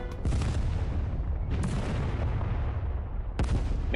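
Explosions in the Final Fantasy VII video game, three heavy booming blasts about 1.5 seconds apart, each followed by a loud rumbling roar that decays until the next hit.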